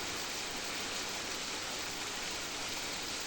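Heavy monsoon rain pours down outside as a dense, steady roar of hiss that stays constant from start to finish, with no voices.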